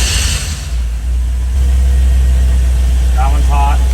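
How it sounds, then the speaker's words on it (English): A Unimog 404 engine idles roughly with a misfire, a loud, steady low rumble close by that runs throughout, with a brief faint chirp near the end. "I'm gonna fire it up and we're gonna find out which holes are misfiring"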